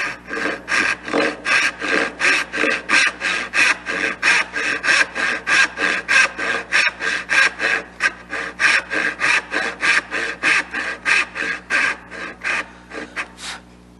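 Hand saw cutting dovetail tails in a wooden tail board, a fast, regular rasping rhythm of push-and-pull strokes close up, each stroke a crisp scratchy burst, slowing slightly toward the end.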